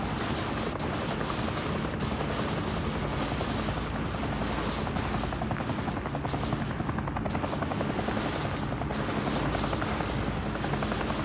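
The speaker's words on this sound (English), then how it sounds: "Helicopter located." A helicopter's rotor in Call of Duty: Modern Warfare thumps steadily and loudly throughout, a constant close drone with faint distant pops behind it.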